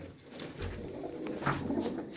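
Domestic pigeons in a fancier's loft in Lohakhera coo with low, rolling calls that repeat near and steady over a soft background murmur.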